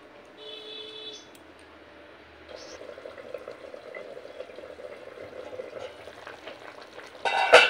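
Bacha fish curry simmers in a covered pan after warm water is added, a soft bubbling sizzle that slowly builds in loudness, with faint tonal beeps early on and a louder clatter right at the end.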